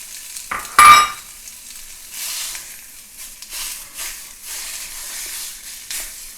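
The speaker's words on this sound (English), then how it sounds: "On the stove, we're just going to drop in our sausage." Sausage hits a large pan over medium-high heat with a sharp burst of sizzle, followed by softer, uneven frying and stirring hisses that come and go.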